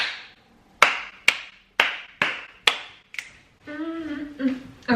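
A run of six sharp hand claps, loud and close with uneven spacing, followed by a voice speaking briefly.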